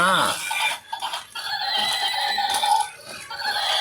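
A bright, electronic horse whinny with a rising-falling warble, loud and close, repeating in short bursts over about four seconds.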